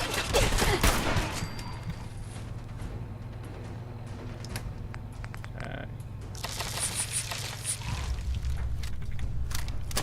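Gunfire during a Fallout 4 video game battle: bursts of rapid weapon fire and explosions over a low droning game score, loud and dense at the start and again near the end.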